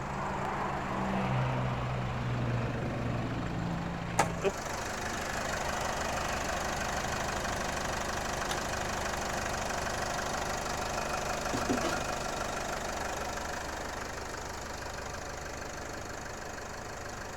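A 2017 Isuzu D-Max Hi-Lander pickup's 1.9-litre common-rail diesel engine idles steadily with a low, knocking rumble, continuous and close, with a brief clunk early on and no talking.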